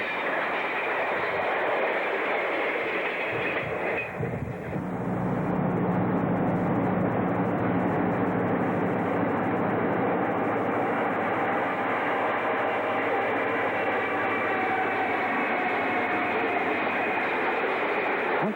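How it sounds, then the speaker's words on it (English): An Ontario Northland southbound train, number 512, rolls past on the Kirkland Lake subdivision in winter, a loud, sustained roar of wheels and engine that continues steadily throughout. "A southbound train 512 passes by on its way back to Englehart"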